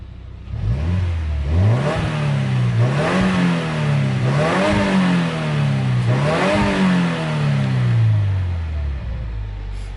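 A 2016 Subaru WRX with a six-speed and 85K miles idles, then revs repeatedly in four or five rising and falling swells, loud and close, before settling back down.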